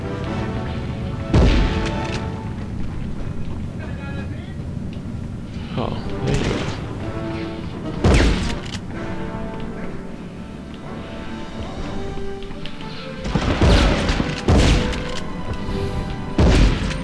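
Gunfire and explosions from Medal of Honor on the PS1, several loud sharp bursts and crashes spread across the stretch over game music, with heavy impacts recurring every few seconds.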